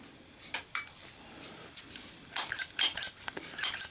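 A Zippo lighter with a red matte case and steel insert is flipped open, struck and lit, giving a few sharp metallic clicks and a scrape, close and fairly quiet, with no talking.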